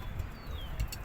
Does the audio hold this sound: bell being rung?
no